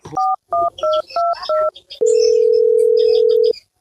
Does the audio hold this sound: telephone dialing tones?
yes